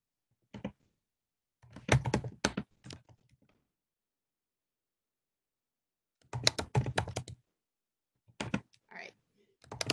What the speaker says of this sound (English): Someone is typing here.